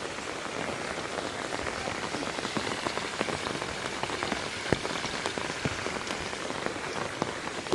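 Heavy monsoon rain pours down in Badlapur, a loud, steady hiss of dense drops with occasional sharper splashes, continuous and close, with no voices.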